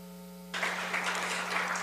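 Audience at an international administrative law congress erupts into steady applause after a low hum, the clapping close and continuous through the short remainder.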